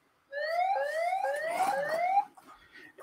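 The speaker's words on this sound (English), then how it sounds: "it sets off an alarm." A video security system's alarm, set off by an analytics alert, blares as a loud series of rising electronic siren sweeps for about two seconds before cutting off, leaving faint residual noise.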